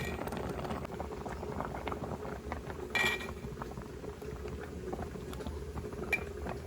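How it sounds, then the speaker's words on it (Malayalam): Vermicelli simmers in a pot, a low steady bubbling and burbling close by with faint patter, continuous and fairly quiet. "ഒന്നുകൂടി ഒന്ന് തിളയ്ക്കുമ്പോഴത്തേനും നമ്മുടെ സേമിയൊക്കെ നന്നായിട്ട്"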